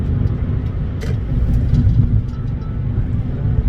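Steady low road rumble of a Kia Ray cruising at about 70 to 80 km/h, with constant engine and tire noise filling the whole stretch, close and even.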